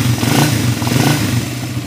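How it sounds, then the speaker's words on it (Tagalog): A carbureted Suzuki Raider 150 motorcycle, a 2018 model after a full engine refresh, idles low with a steady close rumble and a light rapid ticking from the decompression release. "mababa yung minor nya, ayun, lumalagitik-lagitik."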